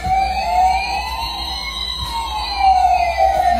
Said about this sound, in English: the sirens on a collection of fire truck models suddenly went off in a different room.